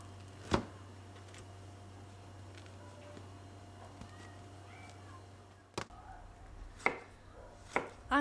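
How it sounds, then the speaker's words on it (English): A knife dices cucumbers, tomatoes and green peppers for a Turkish shepherd salad, giving a few sharp, separate chops on a board over a steady low hum, with long quiet gaps between the strokes. "just dicing cucumbers and tomatoes and green peppers"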